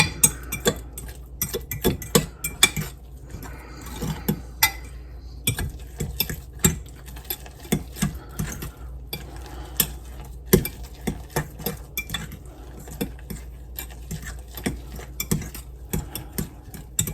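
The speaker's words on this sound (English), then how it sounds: "So, give this a good mix in there." Chaffle batter mixed in a bowl, with a fork or spoon clicking and scraping against the sides in quick uneven bursts that pause and resume, close and fairly quiet, with no talking.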